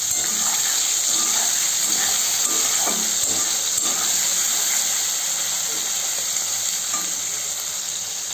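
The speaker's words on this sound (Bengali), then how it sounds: "মাছগুলো আমি হালকা করে ভেজে নিয়েছি" Fish rubbed with salt and turmeric fry in mustard oil in a pan, a loud steady sizzle and hiss that runs without a break, with occasional stirring scrapes underneath.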